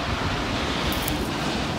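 Steady seaside waves and wind on a coast about thirty minutes' drive from Sapporo, Hokkaido, a continuous broadband wash of surf with wind buffeting the microphone, fairly close and constant, no talking.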